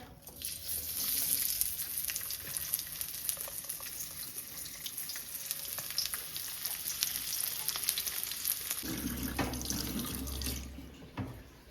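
Oil and onion frying in a pan for a dried fish curry in a home kitchen: a continuous hissing sizzle with some stirring clatter, blended with a running-water rush. It stays at an even level for about twelve seconds with no talk.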